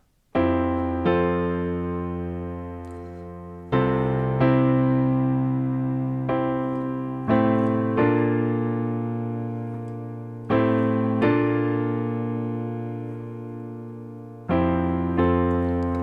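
Sustained piano chords from the accompaniment to a song, struck one at a time in a slow, steady rhythm, each ringing out and fading before the next change, with no voices.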